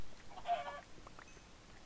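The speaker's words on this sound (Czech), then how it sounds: "trefil jsem slepičku" A Minecraft chicken gives a short cluck burst near the start, followed by faint scattered game sounds, with no talking.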